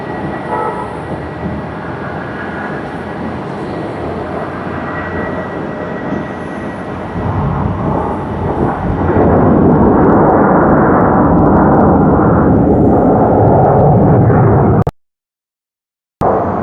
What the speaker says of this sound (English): That was some great sound from the thrust reversers.